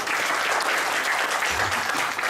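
A youth-club audience at a speech meeting gives a steady, full round of applause, dense clapping sustained throughout at moderate volume with no voices.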